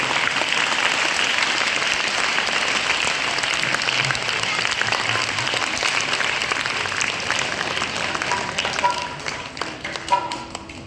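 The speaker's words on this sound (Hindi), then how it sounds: "और सबसे पहले आप अपने लिए ताली बजाओ, एक बार हाथ उठा के बजाओ।" An audience at an Arya Samaj Vedic bhajan gathering claps in loud, sustained applause that fades toward the end, with a voice speaking over it.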